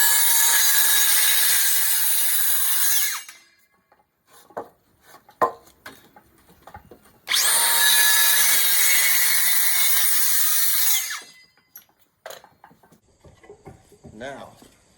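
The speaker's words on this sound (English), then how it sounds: "These angle cuts that our rafters are going to sit on, let's cut them first." A power saw cuts angled notches in timber for truss rafters, two long loud cuts of about three seconds each, separated by quieter knocks and handling sounds, with a voice briefly heard.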